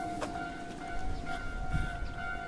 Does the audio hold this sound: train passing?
yes